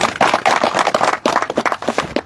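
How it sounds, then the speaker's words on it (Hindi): An audience at a gathering celebrating NEET and IIT-JEE success breaks into loud, close applause, a busy crackle of many hands clapping with a few voices mixed in. "एक बार बोस के लिए जोरदार तालियां बजाएं"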